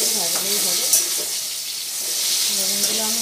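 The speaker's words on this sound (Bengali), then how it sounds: "এটা আমার বেগুনগুলো আস্তে আস্তে ভাজা হয়ে যাচ্ছে।" Eggplant pieces frying gently in oil give a steady, close sizzle with a few soft stirring clinks, while a faint voice is heard in the background.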